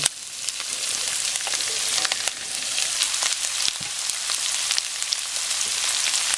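String beans for adobong sitaw sizzle in a pan with half-cooked onions, a dense, steady frying hiss with a few faint clicks, close and continuous, with no voices.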